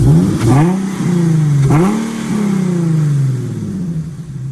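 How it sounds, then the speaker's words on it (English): A Nissan G37 engine with the stock intake revs loudly three times, each surge rising sharply then falling back to a rough idle, close and with no speech. "this is the stock intake revs right here"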